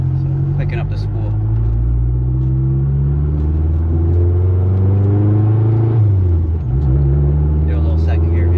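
A 2013 Mazdaspeed 3 with a big turbo engine revs in a steady, loud, close rumble that rises and dips near the six-second mark, with a deep exhaust drone throughout.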